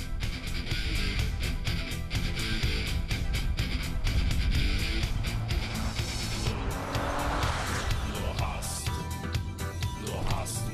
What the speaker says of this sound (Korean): 이번엔 일반 승용차의 가속 능력을 테스트해봤다.